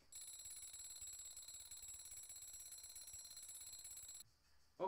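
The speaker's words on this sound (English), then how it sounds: "Okay, so we have alarms." Alarms ringing in the horror game Lakeview Cabin Collection, a continuous high electronic buzzing ring held steady for several seconds, faint, then cutting off abruptly.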